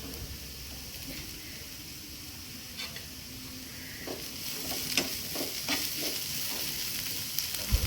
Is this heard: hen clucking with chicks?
no